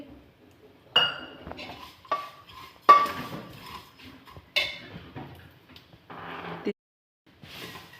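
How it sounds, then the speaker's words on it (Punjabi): Spoons and metal clinking against a pan as fried dry fruits are added to sweet sugar vermicelli cooked in a pressure cooker, sparse separate clanks and scrapes with pauses between them in a quiet kitchen. "ਹੁਣ ਇਹਨਾਂ 'ਚ ਆਪਾਂ ਪਾ ਦਾਂਗੇ ਸੁੱਕੇ ਮੇਵੇ ਜਿਹੜੇ ਆਪਾਂ ਫਰਾਈ ਕੀਤੇ ਸੀਗੇ"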